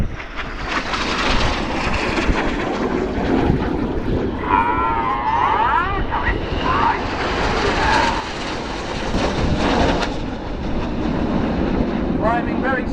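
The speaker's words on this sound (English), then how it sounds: "Now look to your left, here comes a lone jet." A lone Red Arrows jet, Red 9, flies past at the 2017 Fairford airshow with a loud, sustained roar that swells and fades across the sky, while an announcer talks over it.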